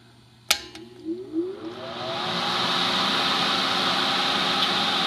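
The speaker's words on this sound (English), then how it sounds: "Now I'm going to put on my fume extractor," After a sharp click, a soldering-station fume extractor fan spins up through a few rising whirs and settles into a steady, moderately loud airy hum. It runs alone, with no talking.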